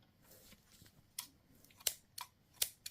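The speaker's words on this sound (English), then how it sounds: "Snip off your yarn, pull through" Scissors snip off crochet yarn in several quiet, close, crisp clicks spaced irregularly over a soft, hushed background.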